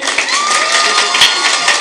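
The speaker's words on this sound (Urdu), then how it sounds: "آپ کی بھرپور تالیوں میں" Audience applause and cheering at a quiz competition prize ceremony in Islamabad, a dense, steady wash of clapping and crowd noise that stays loud for the whole stretch without a break.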